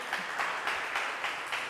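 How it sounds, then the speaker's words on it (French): Studio audience at a French TV game show applauding a contestant as he is called up: a steady, fairly distant wash of clapping that swells in soft pulses throughout. "On applaudit encore plus fort pour Joël."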